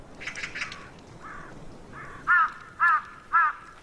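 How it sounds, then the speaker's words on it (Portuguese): Crows and rooks cawing in an Asian tiger habitat, a few distant calls followed by three loud, harsh caws in even succession over quiet ambience. "os corvos e as gralhas alertam sobre a presença de um tigre"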